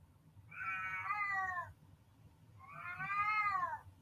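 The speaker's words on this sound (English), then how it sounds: "Cat!" A cat meows twice, each a long drawn-out call with a falling pitch, close and clear against a quiet background.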